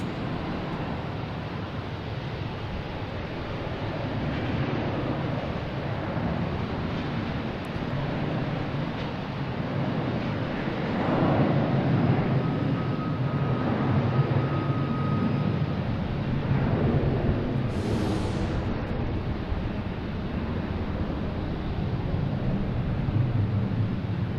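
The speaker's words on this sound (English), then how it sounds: "Next one takeoff is Delta Connection heading to Jacksonville in E175." An Embraer E175 regional jet in Delta Connection service takes off from Logan Airport, its engine roar a steady, broad rumble that holds level and swells slightly around the middle of the run, heard from a distance with some wind.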